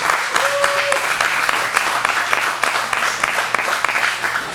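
An audience at a wrestling show applauding, with loud sustained clapping and some cheering close by, and a voice heard briefly over it.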